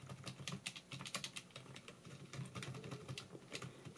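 Keys clatter steadily on a XENTA MT-K201 USB keyboard, a quick, even run of soft clicks at close range with no talking.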